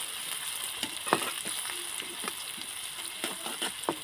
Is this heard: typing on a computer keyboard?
no